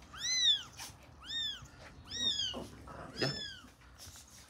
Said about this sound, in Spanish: déjame guardar este gato